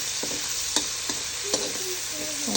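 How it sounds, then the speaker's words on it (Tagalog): Fresh corn kernels sautéing in a hot pan, a steady sizzle with several sharp stirring scrapes and clinks, close and fairly loud, no talking. "Nagigisa lang ako ng mga fresh na mais."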